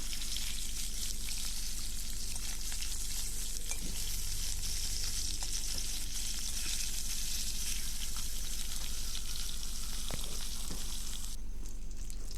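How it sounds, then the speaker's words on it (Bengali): Fish rubbed with salt and turmeric fries in mustard oil in a kadai, making a dense, continuous hiss and crackle that stays loud and even throughout, with a few faint clinks and no voices. "সবার প্রথমে আমি মাছগুলো নুন হলুদ মাখিয়ে ভালো করে সর্ষের তেলে ভেজে নেব।"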